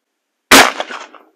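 A single sharp 6mm ARC rifle shot fired as the last round of a magazine while zeroing, loud and sudden after silence, followed by a short decaying echo.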